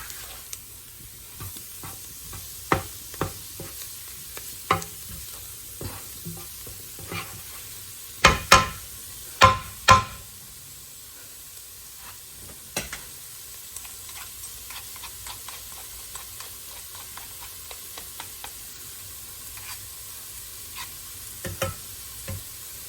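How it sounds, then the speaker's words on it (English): Flour cooking in a pot for a thickened soup, stirred with steady soft sizzling and scraping, with a few sharper knocks of the spoon against the pot near the middle, close and alone. "So we're going to cook this flour for a minute"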